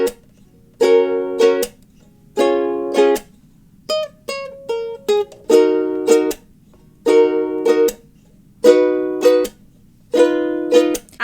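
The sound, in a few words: ukulele strumming pattern for the intro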